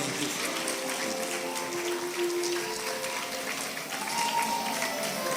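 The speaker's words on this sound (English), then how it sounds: "A big round of applause." Sustained applause from a large audience at a graduation and prize-giving ceremony at Pace Setters College in Abuja, a steady, dense wash of clapping with no break, with voices mixed in.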